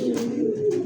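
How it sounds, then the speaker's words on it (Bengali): A pair of Black Bar Shallow pigeons coo, giving a single soft, throaty rolling coo that is close and steady, with no talking heard. "ব্ল্যাকবার শ্যালোর একটা জোড়া।"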